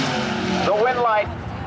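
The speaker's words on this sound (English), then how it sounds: "The 97 Dragster taking on the 93 Oldsmobile." A dragster racing a '93 Oldsmobile down a drag strip roars past with a loud engine howl that sweeps in pitch and fades, while a track announcer talks over it.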